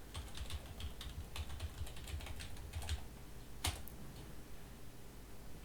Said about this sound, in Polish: Teraz system prosi nas, żebyśmy wpisali hasło administratora. Wpisujemy.